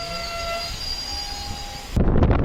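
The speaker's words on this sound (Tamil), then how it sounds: "இப்போது ட்ரெயின் நிற்கிறதாங்க கொயிலாண்டி ரயில்வே ஸ்டேஷன்" A passenger train stopped at Koyilandy railway station, with high tonal whines and a low rumble, then a sudden louder burst of clattering rail noise near the end.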